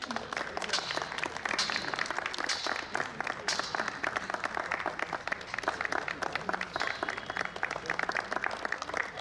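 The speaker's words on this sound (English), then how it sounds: "Please clap for them." Sustained applause from an audience at a sports championship medal ceremony, dense steady clapping filling the whole stretch, loud and continuous with crowd murmur beneath.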